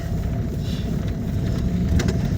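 A car drives home from a market with a steady, loud low engine rumble and road noise close inside the cabin, continuous throughout with no talking.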